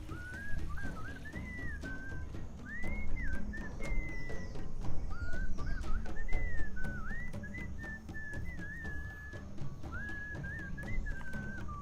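Whistled melody from the video game Sam & Max Beyond Time and Space, a clear tuneful whistle rising and falling in phrases over a soft background bed, without speech.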